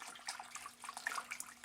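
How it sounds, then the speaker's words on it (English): Warm tap water runs and splashes steadily from a faucet while a small part is rinsed after cleaning, faint and close with no voices. "I just use some warm tap water"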